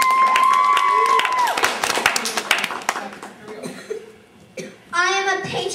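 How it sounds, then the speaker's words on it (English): Children clap and cheer in a classroom, a lively burst of applause for a standing ovation, mixed with kids' voices and a sustained tone early on, fading then rising again near the end. "Let's give him a big round of applause."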